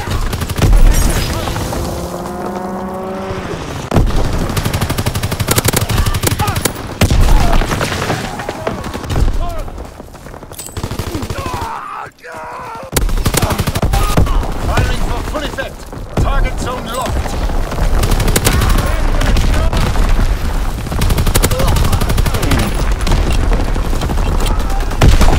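A strafing fighter plane fires in a Call of Duty: WWII battle, loud dense bursts of gunfire and booms rolling almost continuously with a brief silent gap midway, under shouted voices.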